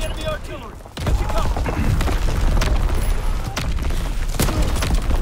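Enemy artillery shells land in a shooter game, heard as heavy booms and crashing blasts mixed with gunfire, loud and continuous after a sharp onset about a second in, with a player's voice talking over it.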